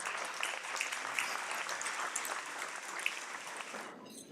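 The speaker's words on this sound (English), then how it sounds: "Please thank our sponsors with your applause." Steady applause from an audience at a business integrity awards ceremony, thanking event sponsors, moderately distant and even, tapering off at the end.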